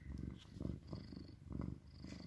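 An Oriental cat purrs softly and close by, in a steady rhythmic rumble that rises and falls with each breath, repeating several times.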